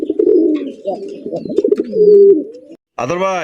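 Damascene pigeons cooing in a market setting, low throaty coos running for a few seconds under a brief spoken phrase, close and fairly loud, followed by a louder voiced call at the end.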